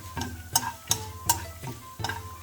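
Onions frying in a pan for a Kerala-style salmon curry, stirred with a spatula that scrapes and taps the pan in a steady rhythm of about six strokes over a soft sizzle.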